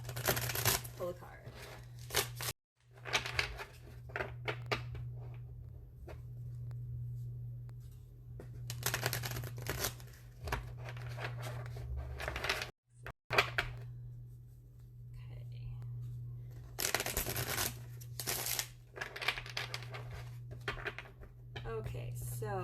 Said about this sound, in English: I'm going to shuffle the deck and I'm going to pull a card.